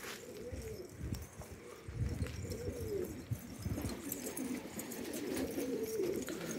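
Several pigeons coo continuously at close range, with overlapping low, throaty calls and soft rustling in the background.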